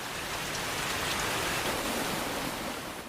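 Heavy rain falls in a film scene as two gangs move toward a street brawl. It makes a dense, steady hiss at an even loudness from start to finish, with no voices.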